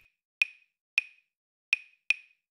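Afro-Cuban clave struck alone, four sharp wooden clicks in the rhythm's uneven spacing, close, dry and clear against silence.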